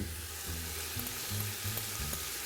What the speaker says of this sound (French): On va rajouter nos oignons ainsi